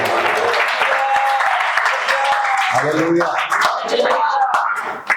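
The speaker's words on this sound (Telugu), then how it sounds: "చప్పట్లు కొట్టి ప్రభువు" A church congregation claps in praise during a Republic Day sermon, a dense, steady patter of many hands filling the room, with a voice calling out over it.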